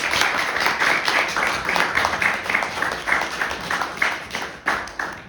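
Audience applause for author Rhoda Molife at a Zimbabwean book festival panel in London: a dense, steady round of many hands clapping throughout, fairly close and loud, with no talk over it.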